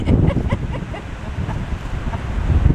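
Gusty wind buffets the microphone in a woodlot on a sunny, warm afternoon, a steady close rumble that swells and eases.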